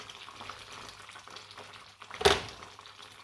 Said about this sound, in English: There you go, look at that, bubbling away nicely.